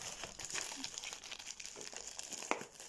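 Plastic packaging crinkles and rustles steadily as a delivered parcel is opened, a close, continuous crackle with a sharper tear-like burst near the end.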